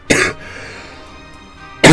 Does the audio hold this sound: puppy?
no